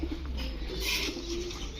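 Low, steady cooing of a female White Racer pigeon close by, a soft throaty murmur repeating over faint background hiss.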